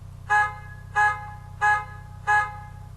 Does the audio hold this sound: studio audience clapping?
no